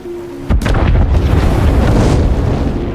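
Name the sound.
oil well explosion in a film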